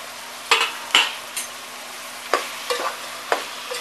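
Mutton frying in hot spiced oil in a village kitchen, with a low steady sizzle broken by a handful of sharp scrapes and clacks from stirring, close and with no talk.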